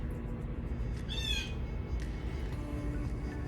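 Birds squawking outdoors, one harsh call rising clearly above a low steady background hum, with fainter bird sounds scattered around it.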